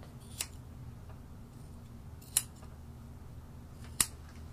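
Scissors trimming the end of a poodle's tail in a kennel, three sharp separate snips spread across a quiet background hum.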